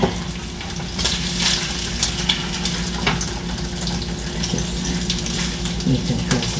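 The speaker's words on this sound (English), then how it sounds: "just making sure the bacon is cooking all on one side." Bacon frying in a pan for cheese and broccoli soup, a steady close sizzle with crackles and a few clinks and scrapes of stirring, no talking.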